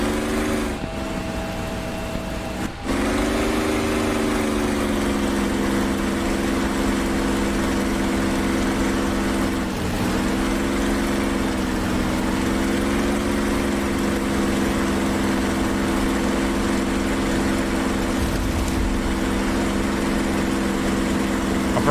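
A steady, droning propeller-aircraft engine from a DCS World dogfight between an F6F Hellcat and a P-47D Thunderbolt runs continuously and loud, its pitch wavering slightly, with a couple of brief clicks near the start.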